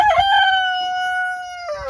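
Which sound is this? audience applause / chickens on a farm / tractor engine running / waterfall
chickens on a farm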